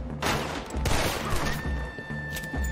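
Revolver gunshots in the Western game Red Dead Redemption 2 ring out as a rapid series of sharp cracks over a loud, noisy firefight, close and repeated across the whole moment.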